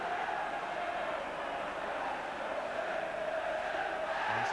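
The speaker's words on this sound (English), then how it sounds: "Once again, a packed crowd." A packed stadium crowd at an Everton v Liverpool FA Cup second replay, with red and blue supporters side by side, sends up a continuous loud roar and chant that fills the whole stretch.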